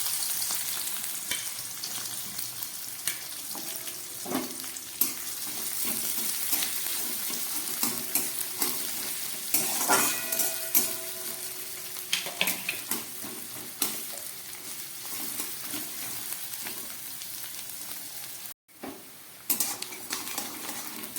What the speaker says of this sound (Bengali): এবারে এর মধ্যে দিয়ে দিচ্ছি কেটে রাখা পেঁয়াজ।